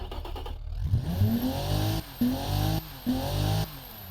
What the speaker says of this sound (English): Let's go ahead and give this muffled engine a bit of a listen.